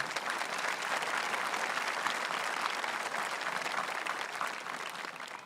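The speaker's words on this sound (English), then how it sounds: "Please join me in another round of applause for those people whose efforts made tonight possible." An audience at a Cinnaminson High School graduation ceremony applauds in a sustained, even wash of many hands clapping that fades slightly at the end.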